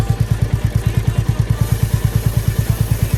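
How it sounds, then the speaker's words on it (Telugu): A motorcycle engine idles in first gear with a steady, rapid, even thump of firing pulses, loud and close, with no one talking. "మనం బండి స్టార్ట్ చేసి ఫస్ట్ గేర్లో వేసి వదిలేస్తే అది మటుగా అది తిరుగుద్ది."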